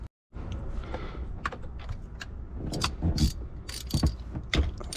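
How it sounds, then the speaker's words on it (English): A 5/8 socket on an extension clicks and ratchets as spark plugs are loosened from a SeaDoo four-stroke engine. The metallic clicks come in irregular, close bursts over a quiet background. "Now we'll get our 5/8 socket extension. We'll reach down in there and take out all of the 3 plugs."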